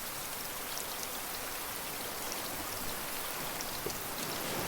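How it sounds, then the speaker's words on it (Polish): Steady rain from a storm in a raft survival video game pours down in a continuous broadband hiss, with scattered drops pattering throughout and no voices. "Bo tam mogę przeczekać burzę."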